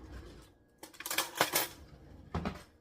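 A utensil stirs horchata de morro in a pot, clinking and scraping against the metal in short bursts, close and fairly loud, with a pause before a final clatter.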